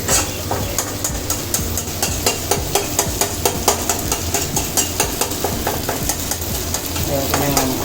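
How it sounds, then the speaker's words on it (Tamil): Boiled egg noodles being stirred and tossed with egg in a hot frying pan, a steady sizzle broken by repeated scraping, clattering strokes of a utensil in a fast rhythm, close and loud with no talking. "இப்போ நம்ம இந்த வேக வச்சு எடுத்து வச்சுருக்கிற நூடுல்ஸை சேர்த்துக்குவோம்"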